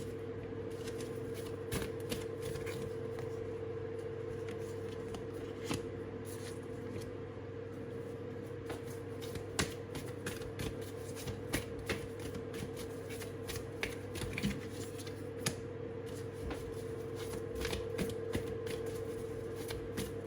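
Tarot cards are gathered and shuffled by hand, a steady run of soft riffling and flicking with small sharp taps, close and fairly quiet over a constant low hum, with no talking.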